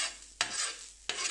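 Onions and garlic on a carbon steel griddle on a stovetop give a faint, steady sizzle, broken by two sharp scraping stirs of a utensil.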